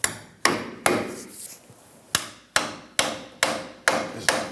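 Hammer blows drive a front upper control arm bushing into place on a 1997-2006 Jeep Wrangler: about eight sharp metallic strikes, close and loud, each ringing briefly, coming in uneven bursts with short pauses.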